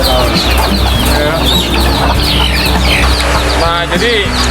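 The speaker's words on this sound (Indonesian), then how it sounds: "Ini ayam ketawa namanya." Ayam ketawa laughing chickens and ordinary chickens cluck and cackle densely and loudly, close by, in a busy, continuous chorus of overlapping calls with a brief crowing note, and voices talk underneath.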